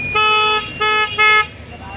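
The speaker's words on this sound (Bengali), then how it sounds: "হর্নটা একটু চেক করি" A motorbike horn sounds in three short, loud blasts, the first longest, with steady tonal beeps and brief gaps between them.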